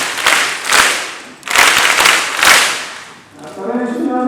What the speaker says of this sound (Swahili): Pigeni makofi tena.